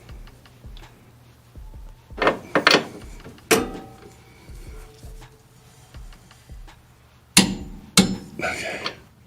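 Metallic clicks, knocks and clunks from tightening trailer hitch bolts with a torque wrench on a 2019-2022 Toyota, scattered and irregular with a few louder hard taps, close and with no talking.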